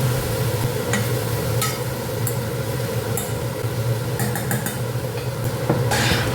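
A pan of food with turmeric, green chilli and rock salt gets stirred over a steady low background hum, with sharp intermittent scrapes and clinks of the spoon against the pan.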